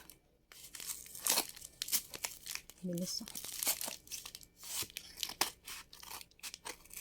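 A parcel package is opened with scissors: sharp bursts of tearing and crinkling plastic come in irregular, close rustles, and someone speaks briefly between them.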